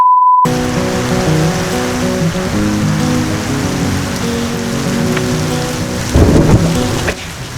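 Heavy rain pours outside in a steady, dense roar, loud and close. A low rumble swells briefly near the end.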